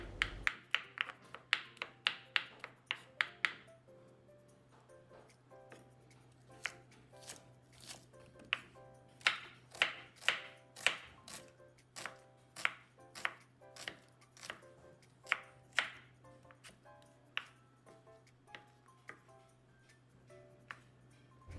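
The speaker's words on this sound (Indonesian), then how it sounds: "5 buah cabai rawit merah dipotong-potong" Knife chopping five red bird's eye chilies on a board, a rapid run of sharp taps at first, then steady evenly spaced chops, close and crisp over a low steady hum.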